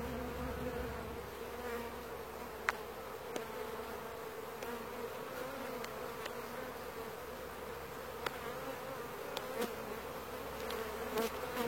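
Honeybees buzzing at a hive during a July honey harvest, a steady low drone of many insects close by with occasional brief sharper buzzes of individual bees passing near, no voices.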